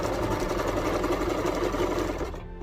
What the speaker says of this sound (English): Hold both pieces together and continue sewing